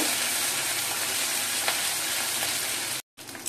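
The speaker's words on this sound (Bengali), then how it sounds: "মশলাটা একটু ভাজা ভাজা করে নেব।" Nigella seeds, green chilli and ginger fry in hot oil in a pan, giving a continuous close hiss of sizzling with faint stirring, then a brief cut to silence before the sizzle resumes.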